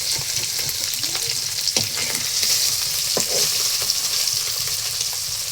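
Puti fish frying crisp in a pan of hot oil, a steady loud sizzle and crackle running throughout with scattered pops and spatters, no talking.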